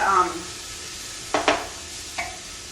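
Spices sizzling in a pot for a large-batch chili, a soft steady fry with a couple of brief scraping stirs near the end, close and moderately loud.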